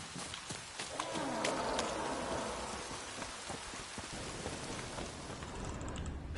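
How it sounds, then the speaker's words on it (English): Rain falling in The Witcher 3 video game, a steady dense patter on surfaces filling the whole stretch, with a low rumble of distant thunder in the background. "Looks like rain."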